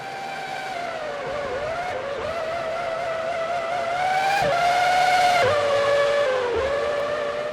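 A Formula One car in F1 2003, a McLaren driven out of the pits at the Austrian Grand Prix, its high-revving engine whining steadily with gear-change pitch dips and swells as it passes near.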